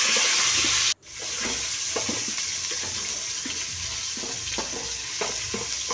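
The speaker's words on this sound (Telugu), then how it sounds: "అల్లం వెళ్ళి ఆయిల్లో ఫ్రై చేసుకుంది" Ginger frying in oil in a cooking pot, a loud steady sizzle with bursts of crackle, briefly cut out near the start before resuming up close.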